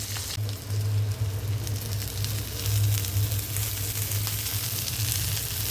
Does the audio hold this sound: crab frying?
yes